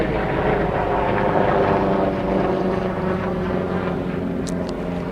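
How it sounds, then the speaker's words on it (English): A helicopter passes overhead at a Congressional Cemetery site, a loud steady rotor and engine drone that holds through the whole stretch and eases only slightly toward the end, with no voices over it. "we'll wait a moment for the helicopter to go over"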